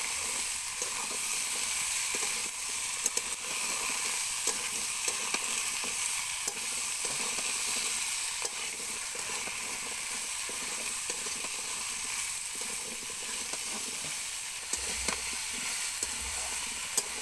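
Malabar spinach and pumpkin sautéing in a pan, a steady close hiss and sizzle that runs evenly throughout, with occasional soft stirring clicks and no voices.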